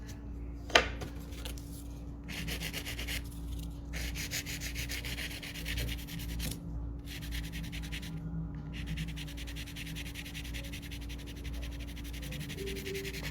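Repeated back-and-forth rasping of a file shaping an almond-shaped nail, European salon style, with steady close strokes in bursts separated by short pauses, heard alone without talk.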